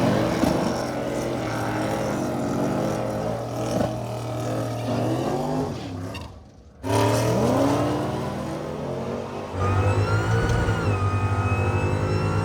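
A Dodge SRT-10 fitted with a Dodge Demon engine makes a loud drag strip pass, roaring steadily as it climbs through gears, with a brief drop near the middle and then a hard rev back up.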